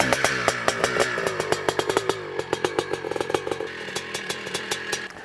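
A 1982 Honda CR480R two-stroke open-class motocross bike runs close by with a sharp, crackling exhaust, blipping through rapid revs and rhythmic bursts that rise and fall before backing off.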